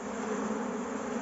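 Dense, steady buzzing of many honeybees crowding a hive frame during a beekeeping inspection, a continuous close hum with no voices.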